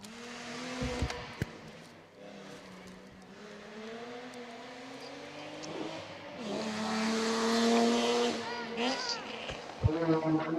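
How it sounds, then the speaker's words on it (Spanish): Rally cars come down a village street on the Muras stage of a Spanish rally, engines rising and revving as they approach and pass, with a commentator talking over the noise throughout. "Más vehículos de salida, arranca ya el tramo de Muras, ya tenemos más vehículos bajando la calle"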